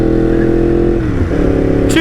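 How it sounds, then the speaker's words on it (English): A 2016 Yamaha MT-10 motorcycle engine runs loud and steady close by, its exhaust droning with a brief dip in pitch midway, and a voice faintly underneath. "My god, this exhaust is so loud."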